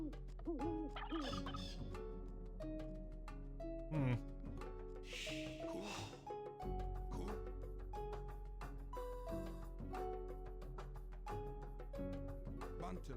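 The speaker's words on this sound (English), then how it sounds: "Hey, found some turkeys." Turkeys gobble again and again in the video game Age of Empires II: The Conquerors, their calls sitting inside dense, continuous game music and effects.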